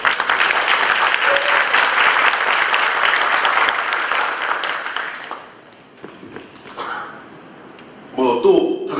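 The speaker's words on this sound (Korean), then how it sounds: "좀 호응이 필요할 것 같은데 박수 한번 주시죠." A seated audience at a corporate talk-concert gives a round of applause, dense and loud at first, then thinning out and fading by midway, followed by a few faint knocks and a brief voice near the end.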